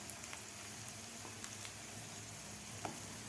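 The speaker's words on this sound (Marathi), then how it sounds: "थोडासा ब्राऊन कलर होईपर्यंत आपल्याला हे बाईट्स व्यवस्थित फ्राय करून घ्यायचे आहेत." Potato bites fry in oil over a medium gas flame, giving a soft, even sizzle with faint crackles and occasional small pops, quiet and close, with no talking.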